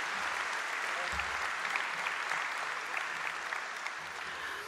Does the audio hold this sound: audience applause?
yes